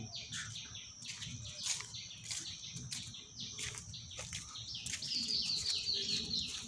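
Several short, high chirps and tweets from a bird in a mango orchard ring out over a soft outdoor background, with a quick trilling run near the end.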